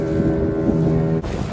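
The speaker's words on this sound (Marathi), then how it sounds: "कदाचित कॅमेरात कळत नसेल, पण लाटेवर आता बोट चालली आपली व्यवस्थित" A small traditional wooden fishing boat, rowed without an engine, rides over sea waves offshore on the Konkan coast, giving a steady broad rush of wind and water with low rumbling swells. The sound is continuous and fairly loud, with a brief dip near the end.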